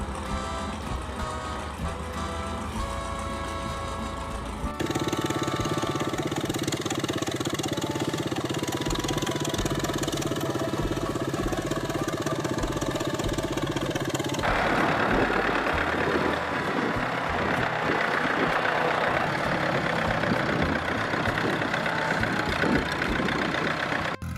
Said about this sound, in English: The low-frequency, rhythmic exhaust notes thump like an old industrial march